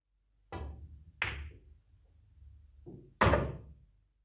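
A pool cue strikes the cue ball on a billiard table for an 8-ball shot, giving a few sharp knocks as balls collide and drop, with a heavier thud near the end, in a quiet room without talk.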